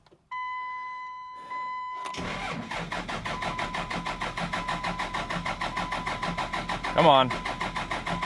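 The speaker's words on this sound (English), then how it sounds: "hopefully these batteries are charged up and we can start this truck for the very first time" A manual Cummins diesel truck cranks after a short whine, fires up around two seconds in and settles into a loud, rhythmic pulsing idle; someone speaks briefly over it.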